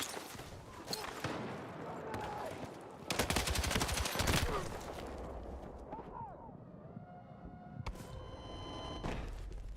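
Rapid gunfire from a stubby-gripped weapon in Battlefield 6: scattered shots early, then a loud sustained burst of automatic fire around the middle, and another sharp volley near the end, amid ongoing game noise.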